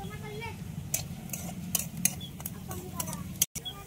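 Onion and chillies sautéed in a pan for egg methi bhaji, heard as scattered spatula taps and scrapes against the pan over a faint low background, with a brief dropout near the end.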